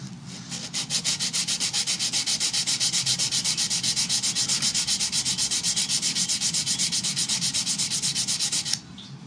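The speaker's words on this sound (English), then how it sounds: "put some sandpaper around this ice block stick" Sandpaper wrapped around an ice block stick rubs back and forth in fast, even strokes for about eight seconds, a steady rasping close up and alone, during work on a guitar.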